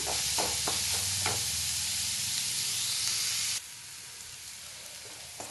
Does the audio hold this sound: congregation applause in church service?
no